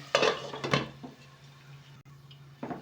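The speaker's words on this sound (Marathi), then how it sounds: "बघू शकता झाकण काढते इथे बघू शकता बटाटा हा शिजलेला आहे" A metal lid comes off a pot of cooking fasting-day potato khichdi with a couple of close clinks and clatters. A quiet hum follows, then one more clank at the end.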